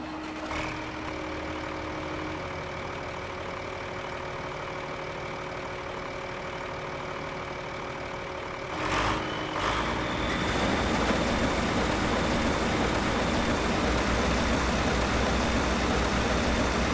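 A tractor engine in Farming Simulator 15 on PS4 runs steadily as it drives, a continuous mid-pitched hum that grows slightly louder and rougher partway through, with no talking.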